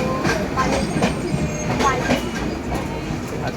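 A train passes on the rails beside a stationed train during a homeward rail trip, a continuous rumble with clicking wheel beats and faint squeals, close and fairly loud.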